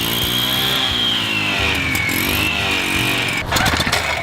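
A concrete saw fitted with a diamond blade runs steadily at high speed, a loud continuous whining engine drone with a slight pitch dip midway and a rougher burst near the end.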